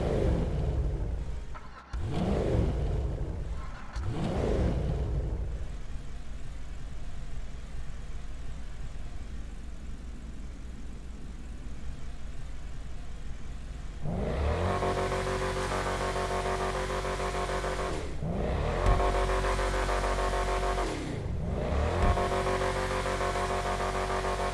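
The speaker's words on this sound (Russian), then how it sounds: "Для начала запуск двигателя, работа на холостых и максимальных оборотах." An Übermacht car engine in GTA Online cranks to life with a few short starter bursts, settles into a steady idle, then revs hard to high RPM in repeated loud surges, alone without talk.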